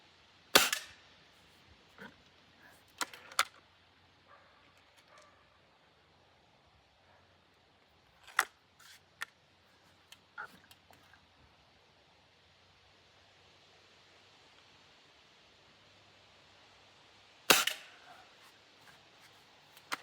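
A Beeman 1022 dual-calibre spring-piston air rifle fires pellets: three sharp, loud cracks spaced several seconds apart, interspersed with quieter clicks and handling noises against a quiet background.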